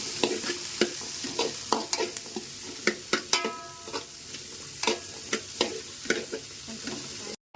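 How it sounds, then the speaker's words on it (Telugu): Chickpeas fry in a pan while a utensil stirs them, with regular scraping strokes about every half second over a steady sizzle, close and fairly loud, no voices. "రుచిగా కొంచెం ఫ్రై చేసుకోవాలి"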